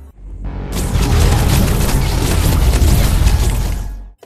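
Gun blasts in the video game Bionic Hunter: The Ancient Sword, a loud, sustained, dense roaring burst that holds steady for several seconds, close and alone, with no talk.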